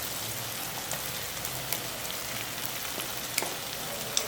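Masala frying in a pan with vegetables: a steady, soft, crackling sizzle like light rain, with a few sharper pops near the end.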